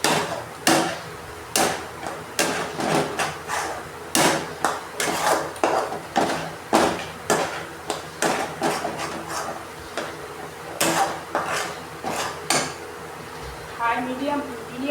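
A utensil repeatedly knocks and scrapes against a cooking pan as food is stirred over a high-medium flame, in irregular clattering strokes while a person talks.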